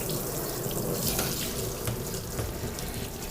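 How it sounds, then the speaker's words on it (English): A tap runs steadily during a dog's bath with a continuous rushing hiss of water, close and fairly loud, with no voices. "I'm going to show her the running water"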